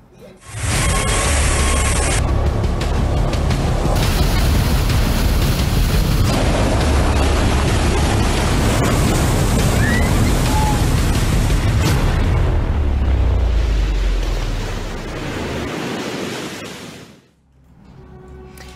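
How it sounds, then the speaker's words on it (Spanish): Strong ocean swell at Caldera roars as a loud, continuous wash of crashing surf, easing and dipping briefly near the end. "Ciertamente es un fuerte oleaje el que se está viviendo en este momento en Caldera"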